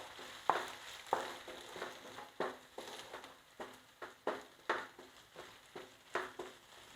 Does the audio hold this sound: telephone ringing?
no